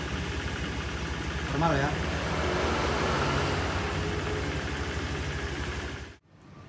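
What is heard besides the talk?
Honda Vario motor scooter engine running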